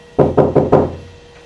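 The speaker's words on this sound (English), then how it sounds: "I'm knocking." Four quick knocks rap on a bathroom door, close and loud in an even rhythm, then fade into quiet room tone with no talk.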